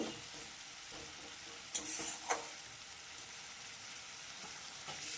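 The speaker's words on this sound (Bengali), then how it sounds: "জল দিয়ে এবার মশলাটাকে ভালো করে আমি কষিয়ে নেব।" Masala spice paste frying in a pan after water is added, a steady soft sizzle throughout with a couple of brief louder bursts of spitting or stirring midway.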